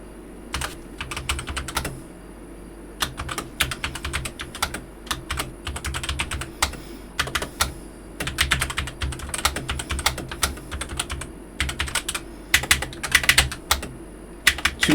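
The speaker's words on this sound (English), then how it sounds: "I can't get used to this new keyboard." Rapid, irregular keystrokes clatter on a new computer keyboard during fast online chess play, with bursts of clicking separated by short pauses throughout, close and fairly loud, with no talk.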